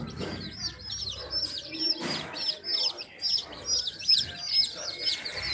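Cold baby chicks and ducklings peep nonstop at close range, a dense chorus of high, rapid chirps with short breaks and one brief low thump.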